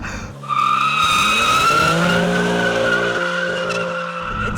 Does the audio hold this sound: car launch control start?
yes